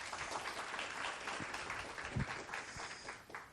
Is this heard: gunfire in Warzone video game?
no